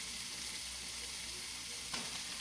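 Tofu sizzles and fries steadily in a hot pan, a continuous close crackle with one brief louder stir or flip near the end.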